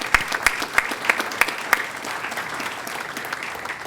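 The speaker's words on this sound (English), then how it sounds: "Why don't we give them a round of applause?" An audience at a chamber legislative roundtable applauds, with distinct sharp claps standing out early over a quieter spread of clapping that settles into a softer, steady patter.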